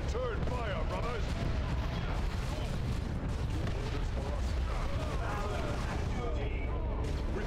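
In the Dawn of War 2 video game, a squad returns gunfire amid a continuous battle din of shots and explosions, with voices talking over the fighting throughout.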